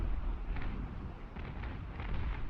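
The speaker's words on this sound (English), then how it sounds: "Look at the synchronization of the gunfire." Naval cannon broadsides in the sailing warship game Naval Action roll together into one continuous booming rumble. A few sharper reports rise out of the dense, heavy barrage.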